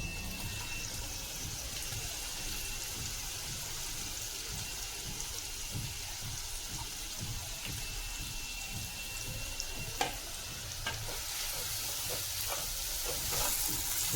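Finely chopped onion frying in a pan for Malvani kalva gives a continuous soft sizzle with light stirring. A couple of faint clinks come near the end.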